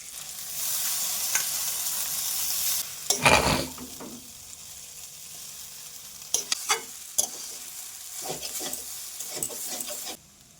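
Chicken chowmein noodles stir-fried in a pan with soy sauce, red chilli sauce and tomato ketchup, giving a steady loud sizzle with a burst of scraping and tossing, then quieter intermittent stirring clatter.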